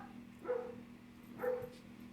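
A dog gives two short barks about a second apart, close by and moderately loud, with a low steady hum underneath.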